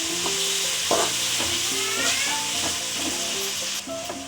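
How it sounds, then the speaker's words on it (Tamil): Tomatoes and green chillies sauté in a pan for fish curry, giving a steady close sizzle with intermittent scraping and clinking as a utensil stirs. The frying hiss continues throughout with no voices. "2 தக்காளி, பச்சை மிளகாய் 2 ஒன்றாவே போட்டுடலாம். போட்டுட்டு இது நல்லா வதக்கலாம்."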